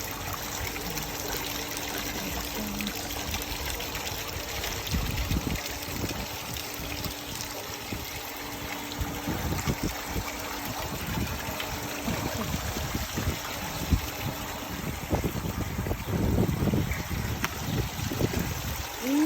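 Water flows and trickles steadily at Princess Resort, heard up close under a low, continuous background hum.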